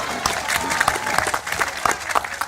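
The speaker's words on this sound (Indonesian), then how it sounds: "Tepuk tangannya mana yang kenceng dong." Loud crowd applause at a large outdoor gathering in Bojonegoro, dense clapping with scattered louder claps and some voices and music murmuring underneath.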